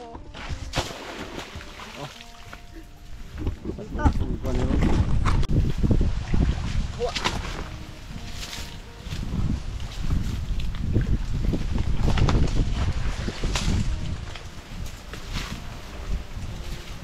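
Strong gusts roar and buffet the microphone in surging waves at an old fishpond, rumbling low and loud throughout, with people talking intermittently.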